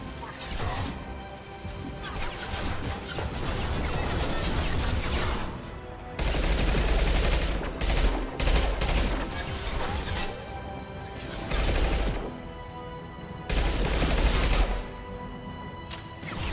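Gunfire in the video game Mass Effect 2, dense bursts of rapid automatic fire and crashing impacts in long loud stretches with short pauses, with some talk mixed in.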